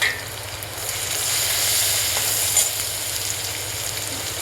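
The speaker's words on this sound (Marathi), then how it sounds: "सर्वात प्रथम आपण आलं लसूण बारीक चिरलेले टाकून घेणार आहोत।" Finely chopped ginger and garlic sizzle in hot oil in a pan, a steady close hiss with a faint low hum underneath and no talking.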